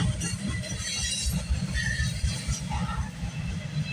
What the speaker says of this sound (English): Okay, symbol on this train is CN M385.